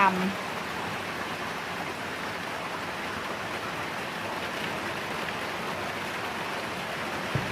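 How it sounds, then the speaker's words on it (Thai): Rain falling steadily on a vegetable garden, a dense even hiss that stays constant throughout, with someone speaking softly over it. "เก็บผักสดสด พร้อมบรรยากาศฝนตก"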